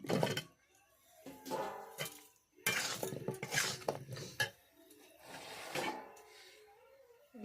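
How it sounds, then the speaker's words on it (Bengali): Chicken pieces being stirred in a pot with spices in village-style cooking, producing intermittent scraping and clinking of a utensil against metal in uneven bursts, close and moderately loud. "ওর মধ্যে আমি মাংসগুলো দিয়ে দিচ্ছি দিয়ে আবারও ভালো করে কষে নেব"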